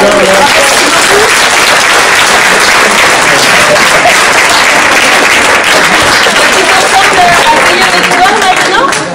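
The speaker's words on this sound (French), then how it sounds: "Allez, on applaudit" Loud, continuous applause from a crowd for performing actors at a community charity event in Seignelay, dense clapping that holds steady at full volume throughout.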